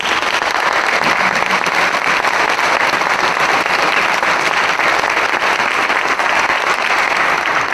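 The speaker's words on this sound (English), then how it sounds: "Let's give our candidates a big round of applause." A crowd applauds continuously and loudly for candidates at a Ward 5 candidate forum in Hattiesburg, a dense, even wash of clapping with no pauses.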